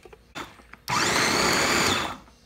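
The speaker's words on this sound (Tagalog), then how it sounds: "ito po yung ating pagigilingan, yung ating grinder. Dito i-grind naman po natin siya para pumino." An electric grinder runs loud and steady for about a second, grinding tomatoes for homemade sauce after a few short knocks and handling sounds.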